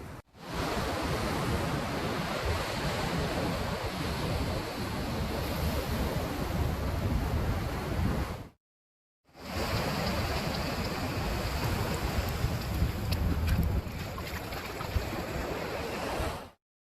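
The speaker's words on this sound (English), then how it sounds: "So the river is filled up and it's really pouring out, and then the tide is pushing in hard." Ocean waves and an incoming tide pushing hard where a rain-swollen river pours into the sea, a loud, constant roaring rush of water with a brief cut partway through, no voices.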